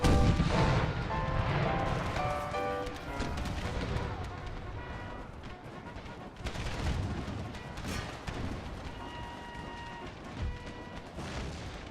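Howitzer artillery in a Civil War mod of Empire: Total War: heavy booms and scattered gunfire crack through a busy battlefield mix, with a strong opening blast and further thuds spaced irregularly across the stretch.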